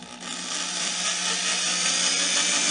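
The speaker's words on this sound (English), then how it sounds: "The pilot holes for the drawer slides are drilled using a 5/64 inch drill bit" A power drill with a 5/64 inch bit bores pilot holes into wood for drawer slides, a loud steady high whine that holds without pause.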